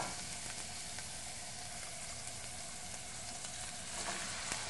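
Onion and porcini mushrooms sauté in a pan for a cream sauce, giving a steady, close sizzle with a dense crackle that holds evenly throughout and carries no voices over it.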